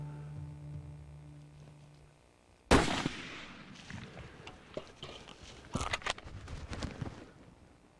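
A single loud .308 rifle shot fired at a whitetail deer on a Texas ranch hunt, a sharp close crack after a low hum, followed by a decaying rumble and scattered rustling and thumps.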